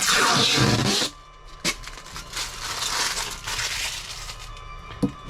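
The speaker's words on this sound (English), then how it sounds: "It's a satisfying peel." Tape is peeled off the top of an Eco-worthy 24V 100Ah LiFePO4 battery box, giving a loud close crackling tear that stops abruptly and is followed by small handling clicks.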